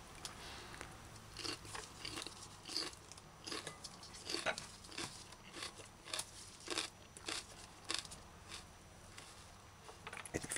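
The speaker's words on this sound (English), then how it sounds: "Or you can dice the bell pepper" A knife dices a bell pepper, a steady, uneven series of crunchy chops and crisp snaps against a cutting board, close and moderately quiet over a faint background hum.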